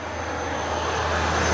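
An FMS J-11 twin 70mm EDF model jet in flight, a loud steady ducted-fan whine and rushing roar that swells slightly over a brief stretch, with no talking.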